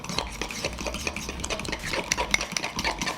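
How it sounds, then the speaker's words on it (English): An egg is blended into a jalapeño cheese bread mix, producing a busy rapid whirring and clattering of stirring in a bowl, continuous and fairly close with no talk. "now I'm gonna put in our egg, 1 egg into the mix, blend it all together"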